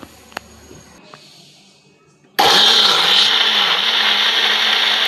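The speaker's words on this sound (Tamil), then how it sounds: "ஜூஸாக அடிச்சிட்டு வந்துடலாம்" A blender whirs loud and close as it blends turmeric and water into juice. It starts abruptly after a few quiet seconds with faint clicks, then holds a steady, roaring spin to the end.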